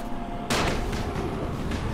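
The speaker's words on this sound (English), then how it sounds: "Oh my god, there's firecrackers." Firecrackers go off in the zombie game Dying Light, opening with a sharp, loud crack followed by a quick ragged series of pops and bangs close by, with no talking.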